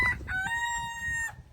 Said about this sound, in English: all the chickens came running out from under the trailer.